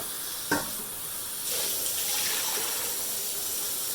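Water pouring from a tap into a pot for boiling, a soft steady gushing stream that starts after a short knock and continues evenly, fairly quiet, no talk.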